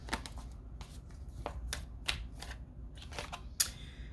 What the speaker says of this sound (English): I've been shuffling the deck and nothing's happening yet